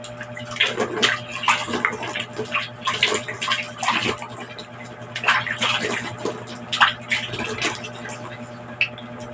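Water splashes and pours in close, uneven bursts as someone washes their face with Dove soap away from a sink, the sloshing continuing with no speech.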